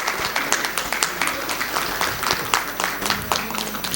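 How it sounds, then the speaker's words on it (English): A modest round of applause from a seminar audience welcoming a co-chairman, steady scattered clapping throughout with some voices mixed in. "A big round of applause for sir."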